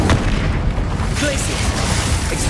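An Incendio fire spell is cast in a Harry Potter video game, a loud, close burst with a booming whoosh that fades quickly.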